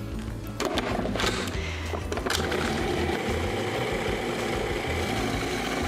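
A kitchen appliance whirls deviled egg filling seasoned with black pepper and onion powder, giving a steady buzzing motor hum that runs throughout, close and fairly loud.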